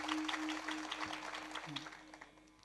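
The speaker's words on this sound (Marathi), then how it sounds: "एकदा फक्त महिला मंडळ टाळी वाजवा बरं" Women in a kirtan audience clap together in a quick steady rhythm, faint and distant, fading toward the end.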